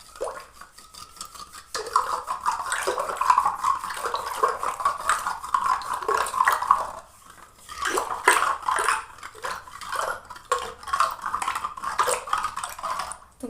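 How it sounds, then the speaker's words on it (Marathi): A wooden churner twirls through curd and cold water in a clay pot, giving a rhythmic, close sloshing and scraping that comes in bursts with brief pauses. "आणि रवीने फिरून घ्यायचं।"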